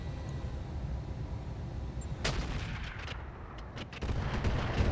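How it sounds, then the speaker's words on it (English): An artillery shot in the mech strategy game RogueTech booms once sharply against a low rumbling background, followed by fainter crackling impacts and a heavier rumble toward the end. "That actually takes down this building, that artillery shot."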